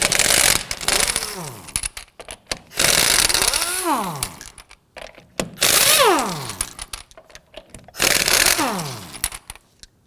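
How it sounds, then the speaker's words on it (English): A 19mm socket on an impact wrench loosens the lug nuts on a Ford Focus rear wheel: four loud bursts of buzzing tool noise, each winding down, separated by short quiet gaps. "Now we're going to use our 19mm socket to loosen and remove the lug nuts."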